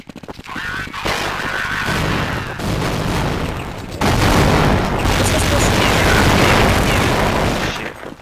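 Grenade blasts and gunfire in Counter-Strike on de_inferno, with dense, loud bursts of booming and rattling shots that run almost continuously, heaviest in the second half, with voices faintly underneath.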